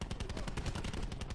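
Quick run of gunshots in a shooter game set in Alcatraz, a fast rattling burst of evenly spaced shots, fairly faint and continuous across a brief moment.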